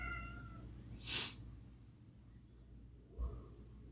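Two cats bothering each other indoors, giving a couple of short, faint meows a few seconds apart over a steady low room hum.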